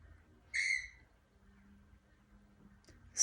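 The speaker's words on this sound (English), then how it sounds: "just watching the lorikeets all gathering in the callistemon tree across the road" Lorikeets call from a callistemon tree across the road as rain approaches and birds flock to roost, one short bright shrill call followed by faint low background noise and another sharp call at the very end.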